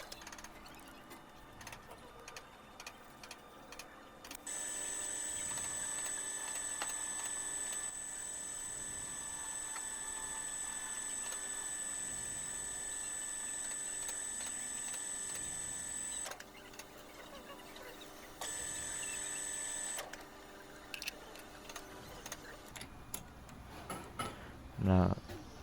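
A metal lathe faces an aluminum ring, giving a steady machine whine with a high tonal hum that runs for long stretches, pauses, then resumes, under a quiet background at moderate distance.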